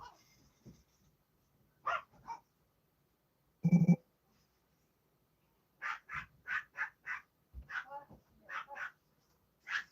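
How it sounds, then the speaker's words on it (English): A dog named in the household barks at a car, giving a burst of sharp barks mid-clip and a run of repeated barks near the end, fairly close, with short gaps between them. "are you barking at the car for?"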